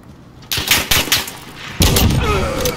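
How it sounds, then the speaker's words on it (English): Call of Duty gunfire, several sharp close shots in quick succession followed by a louder burst of shots after a brief pause, rattling and loud with a trailing echo. "Shot pretty close to me."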